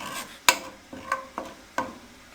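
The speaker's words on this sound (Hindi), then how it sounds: "अब इसमें हम नया कुकिंग ऑयल डाल के अदरक और लहसुन के पेस्ट को फ्राई करेंगे" Ginger and garlic paste frying in fresh cooking oil while being stirred, with four scraping strokes of a spoon against the pan over a light sizzle, close by.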